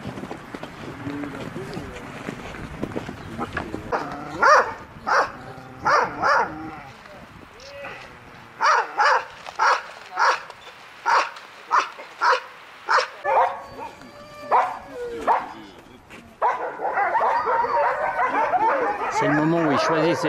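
Several dogs bark and yip in quick, uneven bursts, with a run of sharp barks in the middle. People talk around them, and the clip ends in a noisier stretch of mixed voices and yelps.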